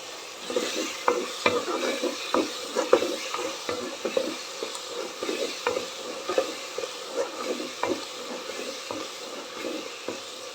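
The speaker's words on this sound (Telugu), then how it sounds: "మిక్స్ని బాగా నెయ్యిలో వేపుకున్నాం" A coconut mix frying in ghee sizzles steadily while a spoon stirs and scrapes the pan in quick, irregular strokes, close and clear with no talking.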